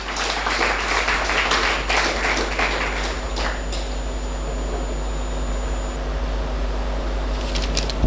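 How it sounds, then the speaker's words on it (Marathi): Audience applause fills an award ceremony hall, a steady, dense wash of many hands clapping that carries on evenly throughout without a break. "त्याबद्दल एकदा टाळ्या वाजवूया आपण."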